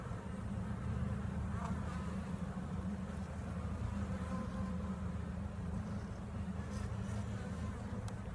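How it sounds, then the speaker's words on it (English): A dense, steady hum of many honey bees buzzing together in a hive, continuous and fairly soft, with occasional individual buzzes passing close by. "A lot of new little bees, it looks like right here."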